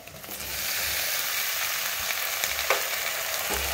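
Steady loud sizzle of cut corn kernels dropped into a pan of browned onion, garlic and curry leaves, frying continuously with occasional stirring clinks and bursts of crackle.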